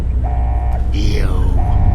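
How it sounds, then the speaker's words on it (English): An alarm in the video game Fallout: New Vegas, Dead Money add-on: a loud electronic tone that sounds, breaks off and returns, with a sweeping siren-like pitch between, over a low droning background. "Alarms"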